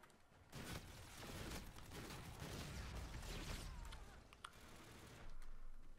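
A shotgun fires in the video game Call of Duty Black Ops, several separate booming blasts spread across a few seconds, heard fairly faint and mid-distance.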